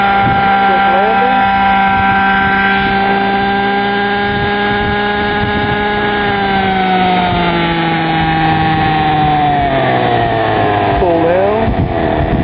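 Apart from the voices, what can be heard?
Radikal G30 engine running with 3-shoe clutch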